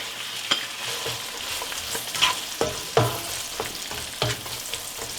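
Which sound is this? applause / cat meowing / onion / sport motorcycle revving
onion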